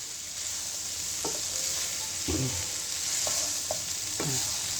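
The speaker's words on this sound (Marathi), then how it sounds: "झाकण काढल्यावर चांगली भाजी परतायची आणि अजून 5-1 मिनिटं बारीक गॅसवर ठेवायची।" Mixed vegetables with pumpkin stir-fried uncovered in a pan over low heat, a steady soft sizzle running throughout with a few brief spatula scrapes spaced across it.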